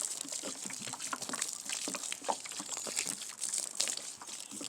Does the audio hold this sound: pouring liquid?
yes